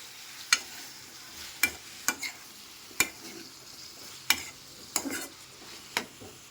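Tomatoes and their juice stirred in a pan for aloo curry: about eight sharp scraping strokes land roughly a second apart over a soft, steady sizzle.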